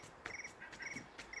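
Crickets at an outdoor campsite trill in short, evenly spaced pulses, several quick repeats that are faint but clear against a quiet background.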